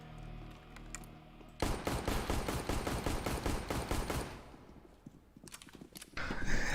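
Automatic rifle fire in Counter-Strike: Global Offensive, a long rapid rattling burst of shots followed by a quieter gap and another loud volley, up close and dominating the sound.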